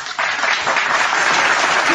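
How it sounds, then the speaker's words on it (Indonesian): An audience at a debate bursts into loud, dense applause that starts abruptly and holds steady, close and continuous. "Nah ini tepuk tangan dulu"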